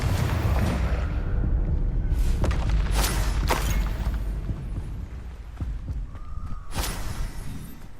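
Spell explosions in the Hogwarts Legacy video game, including the Confringo fire blast: several sharp booming bursts with crackling tails land over a continuous low rumble of combat, loud and close.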